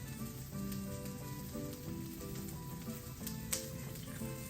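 Olive oil sizzles steadily in a hot pan while home cooking, a close, continuous crackling hiss with a few louder pops and no talk over it.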